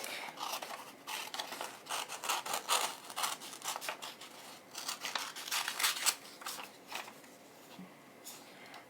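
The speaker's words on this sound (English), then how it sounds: "So we need a pair of scissors." Scissors snip through paper in a quick, irregular series of crisp cuts, close to the microphone, with rustling between strokes.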